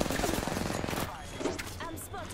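Gunfire in an online shooter video game, a rapid burst of shots for about a second, then scattered quieter shots and impacts, with background voices.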